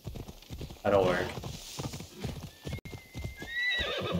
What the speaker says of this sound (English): Come on, horsey, let's get back.